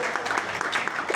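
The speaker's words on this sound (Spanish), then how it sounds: "de parte del equipo Alternative, un aplauso" Brief burst of audience clapping at a health conference in Medellín, dense and even, moderately loud for about a second.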